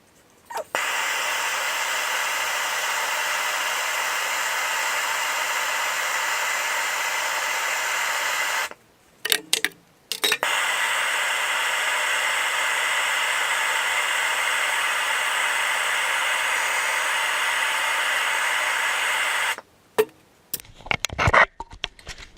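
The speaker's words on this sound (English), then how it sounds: "Use MAP gas, so you get yourself one of these nice Burns-O-Matic" A MAP gas torch hisses steadily and loudly while brazing a quarter-inch brake line, a continuous broadband roar that cuts off briefly mid-way, resumes, then stops with a few clatters at the end.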